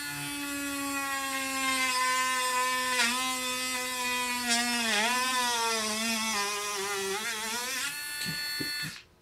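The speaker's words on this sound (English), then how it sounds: "I'm going to drill another hole" A Ryobi power drill run directly from a solar panel drills a hole, its motor whining steadily with pitch wavering and dipping under load, then winding down and stopping at the end.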